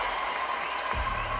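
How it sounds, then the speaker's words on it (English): A taekwondo crowd at a Guadalajara championship reacts to a replayed face kick, a broad, steady wash of cheering and murmuring that swells slightly near the end of the short burst. "the crowd are seeing it now, this is their reaction"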